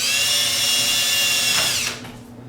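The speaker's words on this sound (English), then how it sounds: "So we drill a little hole there" A close, loud power drill drilling a small hole spins at a high steady whine for nearly two seconds, then spins down and stops.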